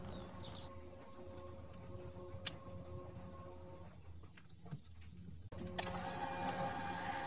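Electric hand mixer whipping chocolate cream for a cake, a steady close motor whir with a constant hum throughout, shifting slightly in tone near the end.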